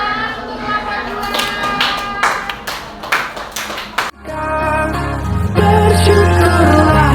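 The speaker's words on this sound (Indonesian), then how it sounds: "Tepuk tangan untuk kelompok 2." Classmates clap for a group after its presentation in a school lesson, a short burst of uneven hand claps at close range that stops abruptly before music starts playing.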